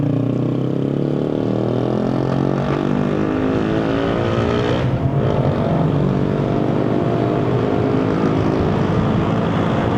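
A turbocharged 1.6-litre four-cylinder engine in a 2025 Peugeot 408, in Sport mode, roars steadily and loudly throughout, a continuous deep revving drone with no voices.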